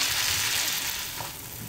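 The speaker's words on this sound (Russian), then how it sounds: "мы сюда бросаем наши порезанные грибы. Хорошо перемешиваем и тушим примерно минут 10-15" Chopped mushrooms stewing in a pan with plenty of released moisture, giving a steady, fairly quiet broadband hiss and soft sizzle that continues evenly without talk.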